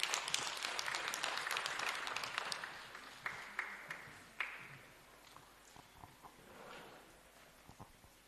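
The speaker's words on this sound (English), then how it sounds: "may we please give them a round of applause." Audience applause at a women's conference session: a dense burst of clapping that thins after a couple of seconds into scattered, fading claps and a few taps.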